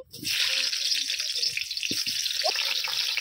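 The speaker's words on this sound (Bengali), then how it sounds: "এবার আমি প্রথমে আমি আলুগুলোকে ভেজে নেব" Potato pieces fry in hot oil in a pan, a loud steady sizzle starting abruptly and continuing close up, with low clinks and scrapes of a spoon underneath and no speech.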